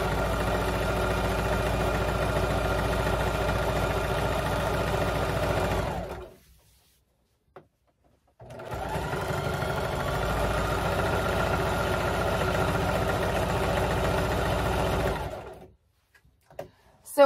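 A sewing machine stitches a modern farmhouse kitchen accent while its bobbin thread runs low. Two long, steady runs of close, humming mechanical whir are separated by a silent pause, and the clip ends with a brief stop and a knock.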